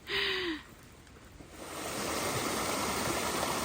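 Floodwater pours through a homestead house. After a brief sharp sound and a quieter gap, a steady, dense rushing of water swells and then holds loud and constant.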